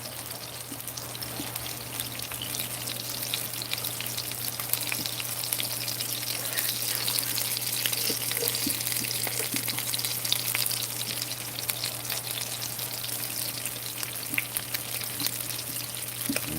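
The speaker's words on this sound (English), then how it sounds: "for crispiness on this side, I'm gonna turn it up to 9. Get the grease back up real hot." Food fries in grease turned up high, a dense, even crackling sizzle with fine popping, close and steady throughout with no voices.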